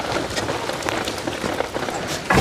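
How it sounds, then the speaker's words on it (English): Steady rain pours outside standing horse stalls on a wet day, a dense continuous patter on surfaces close by with a few louder drips and knocks. "Even though it's wet and rainy,"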